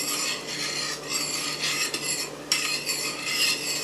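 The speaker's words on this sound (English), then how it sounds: "we're just stirring in the sugar" A spoon scrapes and rasps steadily around a pot as sugar is stirred into a green tea glaze, close and continuous with small clinks along the way and no voices.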